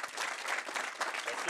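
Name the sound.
audience applause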